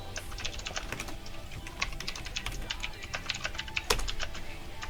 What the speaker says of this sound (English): my keyboard's very clicky